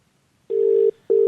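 An outgoing telephone call rings out unanswered, with two loud, steady ringback tones separated by a short gap, alone and close.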